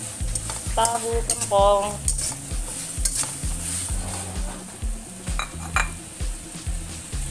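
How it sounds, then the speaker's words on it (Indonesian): Sweet-sour spicy shrimp with tofu and vegetables is stirred in a pan, giving rhythmic scraping strokes and metallic clinks over a continuous sizzle, close and fairly loud, with brief bits of speech. "Ini masaknya diaduk-aduk ya, aduk-aduk."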